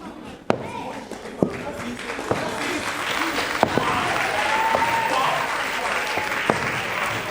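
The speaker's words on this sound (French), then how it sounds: "Plus d'applaudissements, plus d'applaudissements." Audience at a school festival at Lycée d'État Paul Indjedjent applauding in a continuous wash of clapping with occasional sharp louder claps, swelling slightly toward the middle and continuing steadily to the end.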